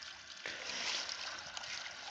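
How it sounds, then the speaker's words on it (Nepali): Fresh water runs and splashes steadily over a chicken as it is rinsed, a close hissing wash that starts abruptly and continues without pause. "अब फाइनल्ली पखाल्दैछ यसले फ्रेस पानीले।"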